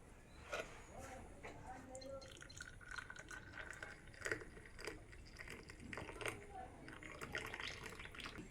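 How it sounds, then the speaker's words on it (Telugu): Liquid splashes and trickles steadily as tea is poured into cups, with faint drips and a quiet background murmur. "టీ కంప్లీట్ అయిపోయింది కప్పులలో పోసుకున్నాను"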